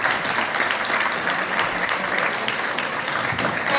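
Audience applause filling a hall after an award acceptance speech at an education event in India, steady dense clapping throughout, loud and continuous with no voices on top.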